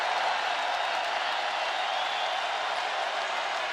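Basketball arena crowd at a Big 12 semifinal applauding a departing player, a sustained wash of clapping and cheering, loud and continuous without distinct voices.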